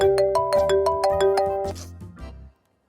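A mobile phone rings with an incoming call, playing a bright, close, melodic ringtone of repeated rising notes that runs for a couple of seconds and then cuts off abruptly into silence.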